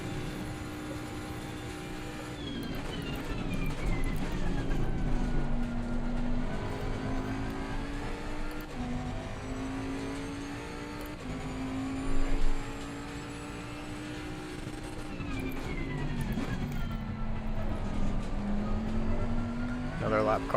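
Race car engines at Bathurst in a racing video game, a continuous loud engine drone rising and falling through gear changes and corners, with a voice talking over it.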